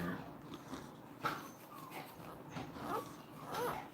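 A Cane Corso puppy gives soft, intermittent whimpers and whines close to the mic, short high cries scattered over a low background rumble.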